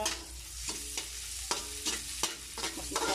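Anchovies and ginger sautéing in a pan give off a steady close sizzle, broken by several scraping stirs at roughly half-second to one-second intervals, with no voices.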